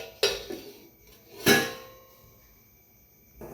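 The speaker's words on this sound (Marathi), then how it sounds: "ही पाण्याला उकळी येईपर्यंत आपण याला झाकून घेऊयात" A metal lid is set onto a pot of water on the stove, producing two sharp clanks with a brief ringing decay, followed by a softer knock near the end, close by in a quiet kitchen.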